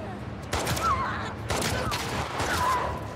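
Gunfire from the video game The Last of Us Part 2, with bursts of shots at moderate loudness over a busy game soundscape, first one burst and then another about a second later.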